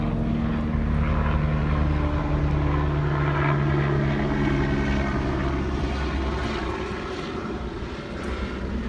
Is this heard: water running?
no